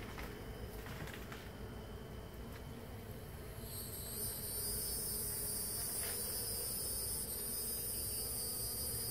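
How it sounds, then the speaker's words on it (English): A couple of honeybees fly inside an abandoned house, their faint, thin buzzing drifting through a quiet room, with a brief brighter hum later on. No one speaks. "maybe only a couple of bees flying around in here"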